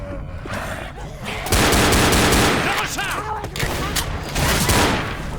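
Pistol gunfire in the video game Left 4 Dead, on the Sans Merci apartments level: repeated sharp shots in quick irregular bursts, loud and dense, with game noise between them.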